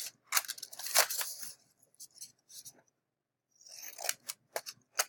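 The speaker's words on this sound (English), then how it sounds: "I'm going to use my scissors, and I'm just going to simply cut these out" Scissors cut through folded paper in short clusters of sharp, close snips and slicing rustles, a quiet gap partway, then more quick cuts.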